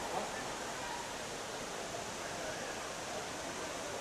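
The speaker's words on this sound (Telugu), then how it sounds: "దీని పేరు ఆగాయి గంగాయి వాటర్ ఫాల్" Agaya Gangai waterfall drops from about 300 feet, producing a steady, unbroken rushing roar heard from some distance, even and constant throughout.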